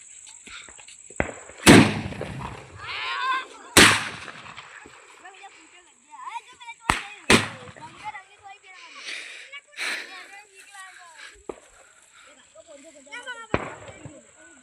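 Diwali firecrackers burst in a series of sharp, loud bangs spaced a few seconds apart, with crackling and fizzing between blasts and people talking and calling out nearby.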